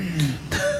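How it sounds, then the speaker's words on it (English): A man clears his throat once before a podcast recording, a short, close, rough sound heard alone. "Got to clear your throat before you do the podcast."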